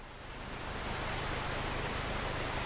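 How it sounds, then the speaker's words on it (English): Hail pelting down during a storm in OUTBRK, a continuous dense hiss of pattering ice that swells slightly at the start and then stays steady, with no voices. "I think that was just the hail."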